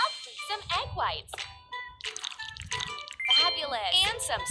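Egg whites are poured for a princess castle cake, giving a liquid pour with small drips under nearly continuous talking.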